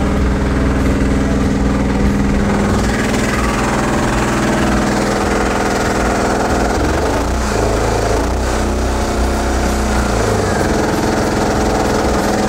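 Honda clone 6.5hp engine driving a DIY 12V alternator generator, running loud and steady up close as the load increases, with a slight shift in engine tone midway.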